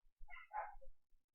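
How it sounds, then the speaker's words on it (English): Neighbors' small chihuahuas bark in a short, close burst of several yips, briefly tapering into a final quick bark, with no talking over it. "Hopefully the dogs barking are not too loud in the video."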